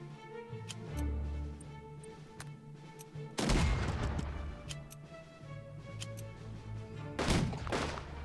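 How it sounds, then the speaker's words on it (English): Artillery bombards troops in a wood in the wargame Unity of Command II, with two heavy explosive bursts that roll out under ticking game sounds and quiet background music. "we're going to go ahead and bombard these troops in this wood"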